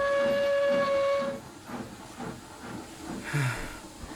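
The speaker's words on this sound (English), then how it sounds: "And Worsdale puffed away" An animated steam locomotive puffs away, opening with a sharp whistle-like tone over hissing steam, then settling into soft rhythmic chuffs that fade and grow fainter.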